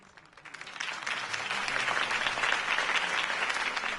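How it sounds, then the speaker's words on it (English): Applause from a crowd in the video game Batman: The Telltale Series swells in after a quiet start, then continues as dense, sustained clapping that stays loud to the end. "If only Mr. Wayne, my campaign's largest backer, could have heard that applause"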